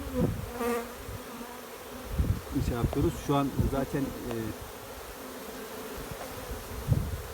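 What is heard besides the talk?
honey bees buzzing at hive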